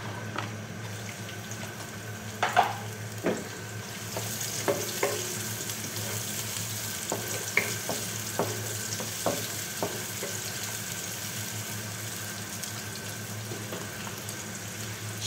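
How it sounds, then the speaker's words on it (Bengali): Five sliced onions frying in about a cup of hot oil, a steady close sizzle and crackle throughout, punctuated by occasional clicks and scrapes of a spatula against the pan. "সেই পেঁয়াজটা দিয়ে দিলাম।"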